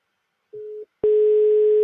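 A phone-call ringback tone plays from a laptop web browser as a steady pitched tone: first a short beep, then a longer, louder sustained tone, with no voices.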